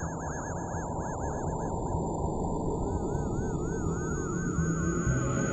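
Space-themed electronic music plays with warbling, sonar-like sweeping tones wobbling over a dense low drone and a high sustained whine, steady and loud with no voices.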